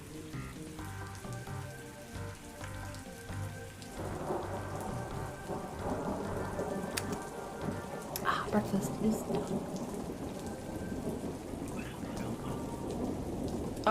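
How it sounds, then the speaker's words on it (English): Steady rain patters on surfaces, with low rumbles of thunder rolling underneath throughout. Partway through, a quiet voice speaks briefly over the storm. "If you guys hate the thunder and rain noise, let me know."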